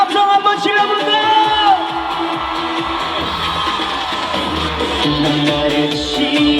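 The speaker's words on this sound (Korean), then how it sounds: "즐거우신 분들만 함성 한번 질러볼까요" A concert crowd at an outdoor Ilsan Taego cultural festival erupts in loud cheering, whoops and shouts, a dense roar of many voices that swells at the start and keeps going under scattered yells.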